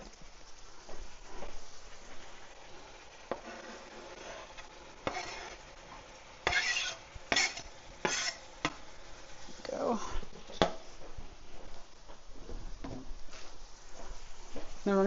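Onions added to a pan of rendered meat fat for Aussie meat pie filling, sizzling and frying steadily with stirring and a few sharper clatters of utensil against the pan.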